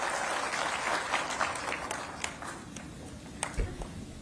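A rally crowd applauds for the Chief Minister in a dense, distant wash of clapping that holds steady and slowly thins out.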